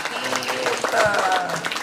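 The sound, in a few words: applause for the students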